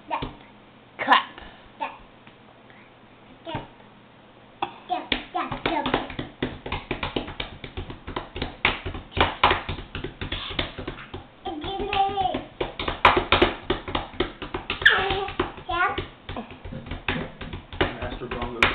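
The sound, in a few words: child clapping and drumming hands like bongos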